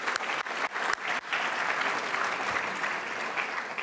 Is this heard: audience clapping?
yes